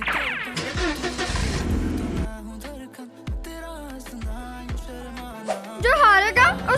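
Toy or game racing cars revving their engines at the start of a race, a burst of rising whines and rapid engine sweeps with a few sharp thuds, loud and close, mixed with cartoonish effects.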